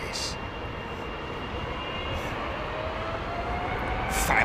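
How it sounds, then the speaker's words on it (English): Steady, dense roar of a jet airliner's engine fan spinning at high speed at Heathrow, growing slightly louder toward the end, with a few faint voices in the background. "Fan blades hitting the speed of sound"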